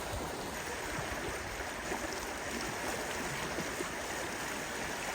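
Steady murmur of the Barhal stream flowing beneath the Hamzat Bridge near the Yusufeli Dam, a continuous broadband wash of water that holds an even level throughout with no voices.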